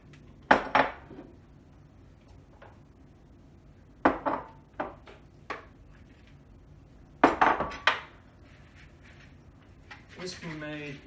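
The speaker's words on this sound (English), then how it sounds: "we'll cream together the butter and both the sugars." Butter and sugars being creamed together with a fork in a bowl, three bursts of clinking, scraping strokes against the dish separated by quiet pauses, with a voice speaking between them.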